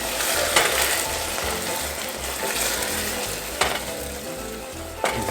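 Sugar syrup for tanghulu candied strawberries being stirred in a pot, a steady close bubbling sizzle with scraping stir strokes and a few sharp clinks of the utensil against the pan.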